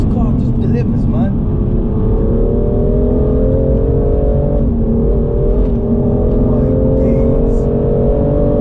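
A BMW M2 Competition accelerates hard, its engine note climbing in a steady loud rising drone from inside the car, with a voice speaking briefly near the start.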